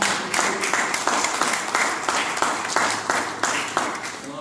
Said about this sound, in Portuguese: Levanta a mão e aplauda o Senhor.